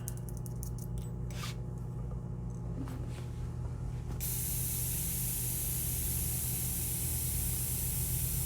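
Airbrush spraying a steady, close hiss during a quick rinse through, continuous throughout and growing louder and brighter partway as the flow opens up, with faint clicks early on.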